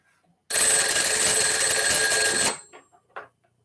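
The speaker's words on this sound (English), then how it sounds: "Now this phone should ring." A fire-damaged telephone rings with one continuous, loud electronic trill lasting about two seconds, then cuts off, leaving only two faint short blips after it.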